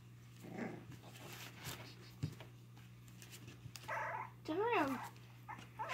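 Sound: Cocker Spaniel puppy growling

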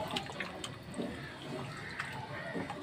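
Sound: water being poured into a pot of meat for gravy

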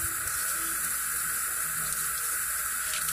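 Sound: rinsing bleached hair with running water

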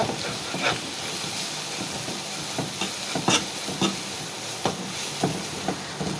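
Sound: ground coriander and cumin spices frying in oil while stirred

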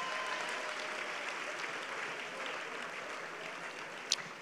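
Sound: congregation clapping hands for Jesus

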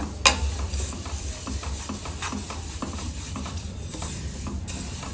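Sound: roasting sesame seeds in a pan

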